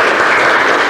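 A lecture hall audience claps briefly after a talk on Asian business competitiveness, a loud, close, continuous wash of hands lasting only a moment.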